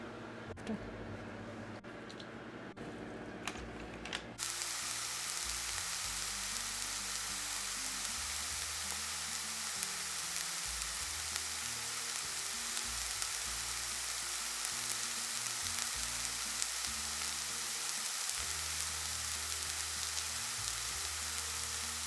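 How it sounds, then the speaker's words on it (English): Loud, continuous sizzling of moose burgers frying in a cast iron pan over a wood fire, preceded by a few seconds of quieter crackling and clicks. "I think we should just put it right in the frying pan now."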